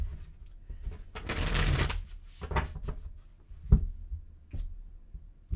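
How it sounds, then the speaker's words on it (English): Tarot cards being shuffled in several quick riffling bursts, with a long crisp flurry followed by shorter brisk riffles and a soft tap, close and alone. "I'm going to give it a couple more shuffles here."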